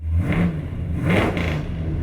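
A car with a loud aftermarket exhaust said to sound like an F1 car, revving in two rising surges close by, a deep rumbling roar that swells and eases without speech.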